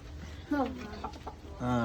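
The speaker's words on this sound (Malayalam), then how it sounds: "നല്ല പൂവൻ കോഴിയാണ്" A rooster at a church auction gives a couple of short, throaty clucks close by, with soft muttering sounds between them.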